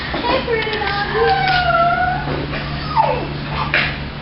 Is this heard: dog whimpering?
yes